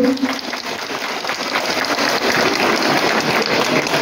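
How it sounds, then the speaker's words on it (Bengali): An audience claps together during a garlanding at a public gathering, a dense, loud, continuous patter of many hands that carries steadily through the whole stretch. "আপনারা সবাই একটু হাততালি দেবেন।"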